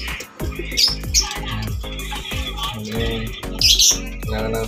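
Several pet birds chirp and squawk in quick, bright bursts during a Sunday bath, with splashing water and clanking sounds in between and occasional voices nearby.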